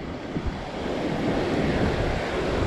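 Wind and waves at a lake during a walleye fishing trip: a loud, constant wash of lapping water under heavy gusting wind rumble, building slightly over the few seconds.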